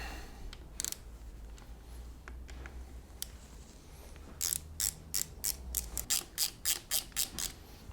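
A hand tool works the reservoir screw on a motorbike front brake, giving a series of sharp close mechanical clicks and ratcheting ticks that quicken into a regular burst near the end, in a quiet workshop without talking.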